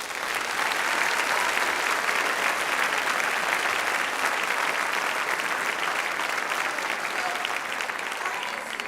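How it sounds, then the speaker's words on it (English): A concert hall audience gives a sustained, even round of applause for student orchestra performers, a dense wash of clapping that holds at a steady loudness for the whole stretch with no voices over it. "So can we just give the students another round of applause?"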